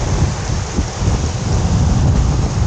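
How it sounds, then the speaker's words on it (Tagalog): Strong sea waves pounding the shore on a rough fishing day along a coastal road in Quezon, a loud dense roar with no break, close and unbroken by any voice. "Grabe, lakas na ng ano, ang lakas na ng alon."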